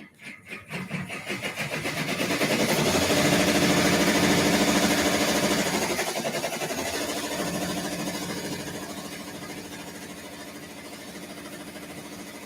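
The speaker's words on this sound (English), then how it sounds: "And use our serger." A serger sewing knit fabric for leggings, its motor starting up and then running in a steady, loud, continuous whir close by, with no talk over it.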